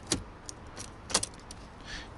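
Keys jingle as they are slid back into the ignition of a Mercedes S500 AMG Coupe, a few bright metallic clinks spread over two seconds, heard up close inside the quiet cabin.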